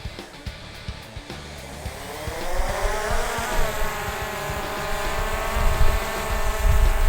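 Quadcopter drone rotors spinning up for takeoff, a steady whirring buzz that climbs in pitch and grows louder as the blades gain speed, heard close and alone.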